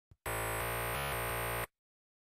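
Loud synthesized bass note, a dense buzzing tone held for about a second and a half after a short blip, with a brief dip partway through, then cut off into silence.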